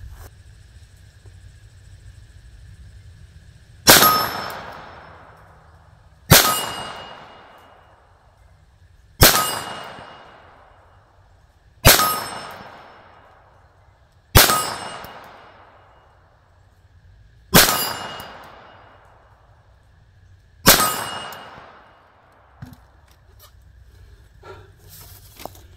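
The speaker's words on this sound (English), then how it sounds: "I'm going to shoot some rounds off the bench" Ruger 22/45 Lite .22 pistol fired from a shooting bench, seven sharp cracks at uneven intervals of roughly three seconds, each with a short ringing decay, loud and close over quiet outdoor background.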